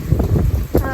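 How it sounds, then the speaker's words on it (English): Strong hurricane wind roaring outdoors during Hurricane Ian on the west coast, a loud, steady buffeting rush with gusting swells and mic rumble throughout. "It is very, very windy."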